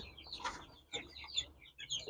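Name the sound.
hen clucking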